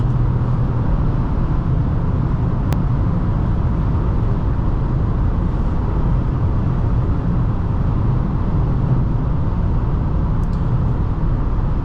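A 2010 Honda CR-V LX engine drones steadily from inside the cabin at highway speed, a loud constant low rumble with road and wind noise and no break for the whole stretch.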